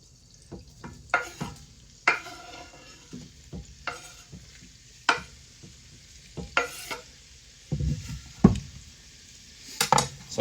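About 1.5 pounds of chicken, two breasts, frying in a pan for an Alfredo, with a soft steady sizzle under repeated clinks and scrapes of a utensil stirring against the pan. Quiet and close, with no talking.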